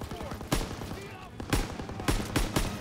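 Machine gun fire in a Call of Duty WWII battle, with sharp bursts cracking about once a second over a steady din of distant shooting and battlefield noise, while voices shout underneath.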